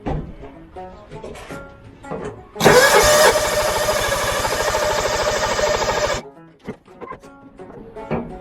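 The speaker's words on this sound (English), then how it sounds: "let's see how it cranks with the new plug on it" A small engine fitted with a new spark plug cranks and catches, running loud and steady for a few seconds before cutting out, with quieter clatter and handling noise on either side.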